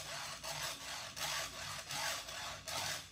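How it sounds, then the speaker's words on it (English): Chainsaw file rubbed back and forth across a saw chain, a steady rhythmic rasping with about seven gritty strokes, close and fairly loud with no talking. "they actually just rub the file back and forth like that"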